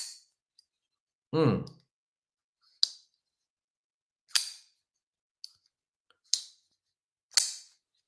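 D10 folding knife snapped open and shut, about five sharp, close clicks spaced a second or so apart, with a brief voiced sigh early on.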